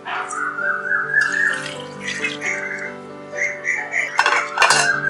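Water is poured over flattened rice (aval) in a kitchen bowl to soak for instant medu vada, a steady trickling pour under a faint whistling tone, ending with a few sharp clinks.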